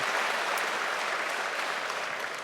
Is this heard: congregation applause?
yes